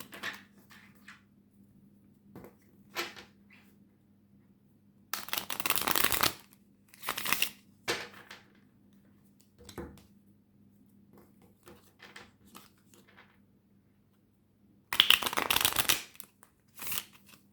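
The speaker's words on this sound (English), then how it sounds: "I do pre-shuffle these decks, but sometimes I like shuffling them extra" A tarot deck is shuffled by hand in several bursts of crisp riffling and card slaps, separated by quiet pauses, with a faint steady hum underneath.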